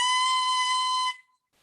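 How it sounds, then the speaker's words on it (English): An oboe reed blown alone with half the reed in the mouth gives a steady, bright, reedy tone that holds for about a second, then stops abruptly, close and fairly loud. "if I have half the reed in my mouth, it sounds like this"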